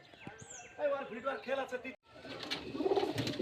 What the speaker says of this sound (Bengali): অনেক পায়রা আছে